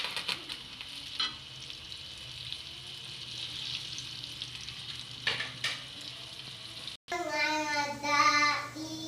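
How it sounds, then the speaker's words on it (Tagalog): Chicken fries in hot oil with a faint, steady sizzle and crackle. Quiet voices talk over it, and louder speech comes in near the end. "naglagay na po sa mainit na mantika"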